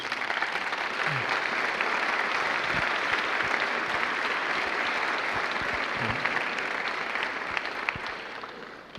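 An audience at the Sixth Annual Eagle Scholars Ceremony gives sustained, dense applause, many hands clapping evenly and loudly for the whole stretch, with no speech over it.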